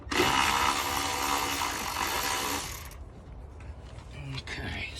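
An auto ratchet spins out intake bolts on a 3.6 Pentastar engine, a loud buzzing whir for about three seconds, then quieter clicks and metallic handling noises close by.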